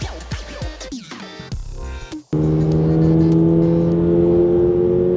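A Toyota GR86 sports car pulls away and accelerates, with engine revs climbing in short bursts before settling into a loud, steady droning engine note heard up close, with no talk.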